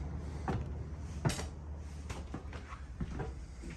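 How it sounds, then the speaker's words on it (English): Entry door of a Jayco White Hawk 25 MBH travel trailer being opened, with a series of soft clicks, rattles and a sharper latch clunk, faint and close against a low background hum. "If I can get the door open, sorry about that."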